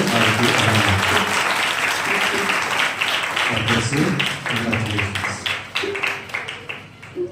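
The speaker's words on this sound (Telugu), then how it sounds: "సంతోషం ఉంటే గట్టిగా చప్పట్లు కొట్టి" A church congregation claps loudly together, sustained applause that continues strongly before thinning into scattered, fading claps near the end.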